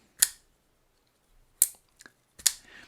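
Three sharp metallic snaps in quiet, each crisp and close, the last followed by a faint lighter click, as a We Knife Co. Shamwari pocketknife's front flipper flicks the blade open and locks.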